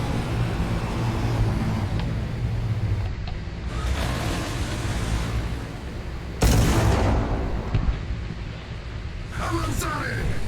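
Artillery fire and battle noise in the tank combat game War Thunder: loud dull booms and rumbling blasts over a constant engine drone, with someone talking.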